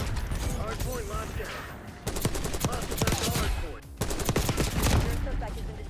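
Rapid-fire weapon shooting in Black Ops 6: fast clusters of gunshots in bursts, close and loud, with brief gaps between strings of fire and mechanical clatter over game background noise and some voice.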